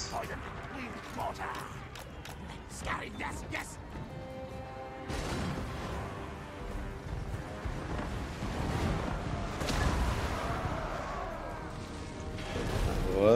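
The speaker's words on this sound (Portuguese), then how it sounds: "Agora sim estou vendo tiros eficientes acontecendo." Artillery and mortar fire during a siege battle in Total War: Warhammer 2 with Skaven forces, heavy booms and crashing impacts rolling under a busy battle din, with someone talking over parts of it.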